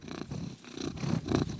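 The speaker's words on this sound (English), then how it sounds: "Can y'all hear him purring?" A pet cat purring close by, a steady low rumble that swells and eases in a continuous rhythm, alone without talk.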